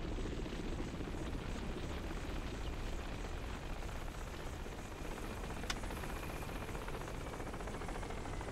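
Helicopter hovering in the video game Crysis, a steady loud rotor and engine roar filling the whole stretch, with a brief sharp click partway through.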